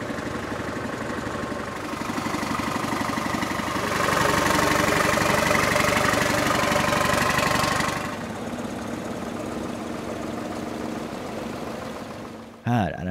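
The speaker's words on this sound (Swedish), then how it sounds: "Familjen Pihl kommer med sina underbara BM och Munktells typ 30." Vintage BM and Munktells typ 30 tractor engines rumble in a parade at Målilla Traktor Power Weekend 2014, a loud, steady, throbbing drone that swells louder in the middle as they pass close by.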